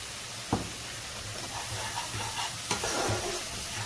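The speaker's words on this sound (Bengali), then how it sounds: "এবার মশলাটাকে একটু কষিয়ে নেব।" Masala spice paste sizzles and fries steadily in a pan for a Kolkata-style katla kalia Bengali fish curry, a constant close hiss broken by a couple of sharp stirring clacks.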